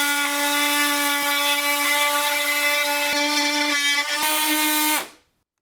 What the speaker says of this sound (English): just like a multi-tool, super loud, and it takes a while to cut through things